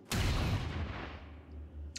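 Heavy gunfire strikes a battery in the video game XCOM 2, a loud booming blast that rolls and decays over about two seconds, with a brief sharp crack at the end.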